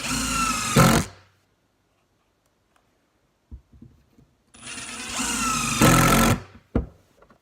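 A Ridgid brushless cordless power tool whirs at full speed in two loud bursts, each about a second or two long. The bursts are separated by a quiet gap broken by a few faint knocks.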